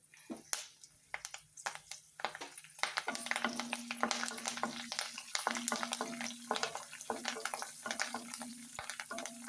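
Cumin, mustard seeds, two dried red chilies and curry leaves fry in hot oil for an okra (bendakaya) pulusu tempering, giving a close, steady crackling sizzle broken by repeated scraping stirs.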